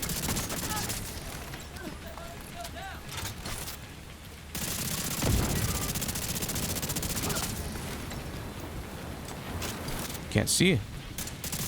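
Gunfire in the shooter game The Division 2 rattles in bursts over steady game background, with a voice speaking briefly amid the shooting.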